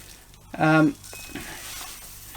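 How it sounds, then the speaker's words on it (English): Oatmeal stout mash gets a thorough stir in a home brewing system, a soft sloshing scrape that stays low and close, interrupted by a brief tonal voice-like sound near the start. "Just making sure I give it a good stir between additions"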